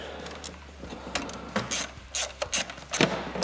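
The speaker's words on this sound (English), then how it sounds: "we'll tighten up this isolator" A hand ratchet tightening the fuel line isolator on a Duramax LB7 diesel injector during an injector install, giving bursts of close, dry clicking and rubbing strokes that grow louder toward the end, with no speech.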